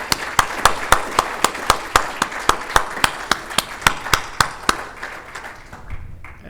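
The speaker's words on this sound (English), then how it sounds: "Let's give them another round of applause." A single person claps in a steady rhythm of roughly twenty sharp, evenly spaced claps at a roundtable session, fairly close and clear, then stops and leaves quiet room tone. No one speaks.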